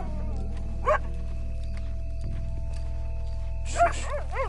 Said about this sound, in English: Stupid mutt. Get out of here.